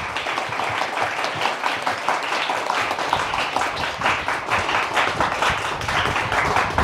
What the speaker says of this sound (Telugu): ఒకసారి గట్టిగా చప్పట్లతో ఆహ్వానం పలుకుతాం